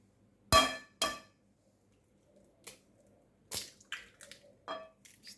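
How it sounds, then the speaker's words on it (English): An egg is cracked into a bowl of yeast and flour mixture for jam-filled doughnuts: two sharp close taps on the rim, then a few softer clicks and small wet drops in a quiet room. "I break in one large egg."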